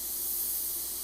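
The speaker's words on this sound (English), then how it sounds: "this airbrush is spraying by itself" An airbrush left idle for a week sprays air on its own, giving a steady, close, continuous hiss with no talk over it.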